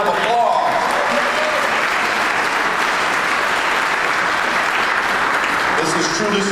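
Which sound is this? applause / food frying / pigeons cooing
applause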